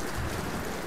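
Rain falls on a stormy night in the video game Tomb Raider, a dense, even wash of hissing drops with a low rumble underneath, steady and close for a short moment with no talk.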